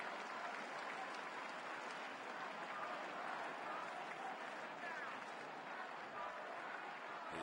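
A large Fenway Park crowd at a Red Sox–Yankees baseball game applauds in a dense, continuous wash of clapping that holds steady and fairly distant the whole time.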